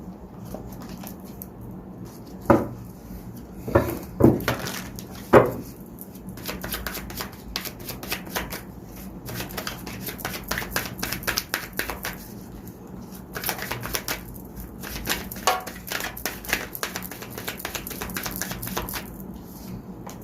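Tarot cards being shuffled by hand, a steady papery riffling and patter running throughout with a few sharper slaps near the start, fairly close and moderately quiet, with no voice.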